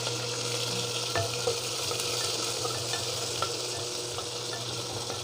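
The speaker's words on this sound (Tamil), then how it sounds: "பூண்டு நல்லா பொரியட்டும்." Garlic sizzles in hot oil with curry leaves for a South Indian tamarind rice, a steady close frying hiss with occasional small pops and stirring clicks, no voices.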